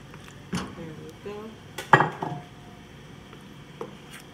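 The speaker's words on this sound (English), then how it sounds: "I'm gonna put all the shrimp and everything in here" Shrimp and fish pieces are dropped into a cooking pot in a kitchen, giving a few soft wet plops and scattered clinks of metal and utensils. One clatter stands out above the faint room noise.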